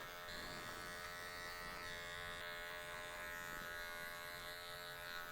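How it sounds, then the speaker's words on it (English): Electric hair clippers set to zero buzz steadily and close up through a haircut, a constant motor whine with no pauses and no voices. "I'm setting in my first guideline using my clippers at a 0"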